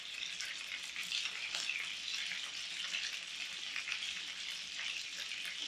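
Polish meat patties sizzle steadily in a hot frying pan, a continuous crackling hiss with tiny pops throughout, close and fairly loud.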